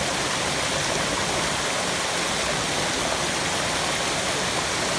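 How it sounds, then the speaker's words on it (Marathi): A small waterfall in a Konkan forest near Chiplun pours in an unbroken, hissing rush of water that stays even and close throughout, with no talking. "ह्या बाजूला एक छोटासा धबधबा आहे"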